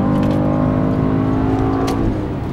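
A two-stroke Saab 96 rally car engine revs hard with a raspy, buzzing exhaust note, loud and close, easing off slightly near the end.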